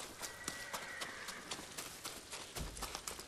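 Rhythmic clip-clop of horse hooves trotting at a quick pace in the video game Ghost of Tsushima, fairly faint, with soft thuds and a low rumble near the end.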